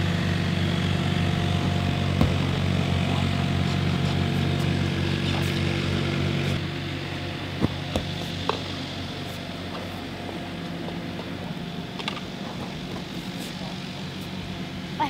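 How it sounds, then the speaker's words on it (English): A neighbor's lawn mower running outdoors nearby, a steady droning engine hum that drops in pitch and level partway through, with a few sharp knocks and thumps close by. "my neighbor's mowing right now. It's gonna be loud"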